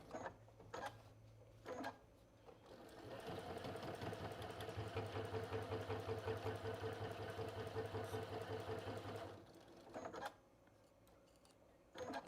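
A sewing machine with a patchwork foot runs steadily for about six seconds, stitching ribbon onto a fabric needle book, a close, even mechanical whir framed by a few quiet clicks and handling noises before and after.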